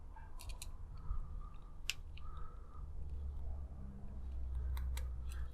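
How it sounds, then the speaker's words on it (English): A small screw is driven into a plastic part of a Dodge Charger R/T scale model, giving scattered faint clicks and ticks over quiet room hum, with a few sharper taps. "So let's screw that all the way down so it's nice and tight."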